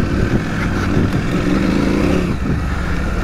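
A KTM 790 Adventure motorcycle rides a slippery dirt trail, its engine a loud, steady close drone that rises and falls slightly with throttle over a rough rumble of wheels on loose ground.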